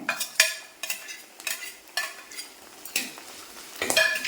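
Small onions are stirred into frying ginger, garlic and green chili for a Kerala fish chili curry, with rhythmic spatula scrapes about every half second over a soft sizzle, up close.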